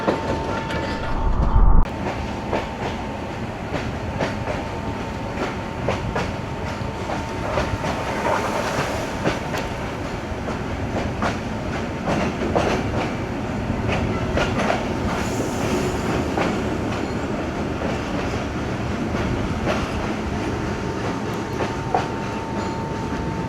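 Babu passenger train running on the Lala Musa to Lahore line in heavy rain, approaching a railway station: a continuous loud rumble with rhythmic wheel clatter, heard from on board, steady throughout with no talk.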